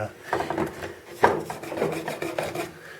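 Rubbing and rasping a small wooden box smooth during repair work, several short scraping strokes at an uneven pace with one sharper knock, close and fairly quiet, no talking.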